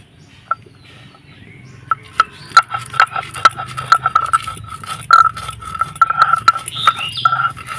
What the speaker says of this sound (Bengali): শিলপাটে গুঁড়ো করে নেব